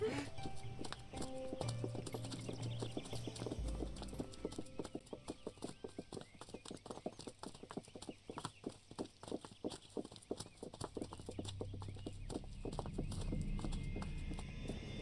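Donkey hooves clip-clop steadily on the ground as the animal is led along, a regular rhythm running through the whole stretch with background music and occasional talk.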